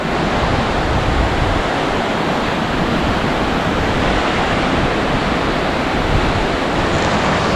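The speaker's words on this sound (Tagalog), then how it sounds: "Malakas na naman ang tubig doon." Strong rushing water during a typhoon, a dense, steady broadband roar like heavy surf or torrent that holds constant, close and loud, with no talk.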